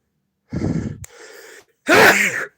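One loud sneeze, close up: a drawn-in breath building up, a short pause, then a sharp explosive burst.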